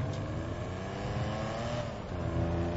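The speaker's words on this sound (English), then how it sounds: "That's a nice engine sound." A car engine revs in a video game, a steady loud engine drone that builds slightly toward the end under dense game sound.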